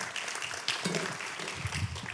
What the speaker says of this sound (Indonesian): Kasih tepuk tangan yang luar biasa buat Tuhan kita.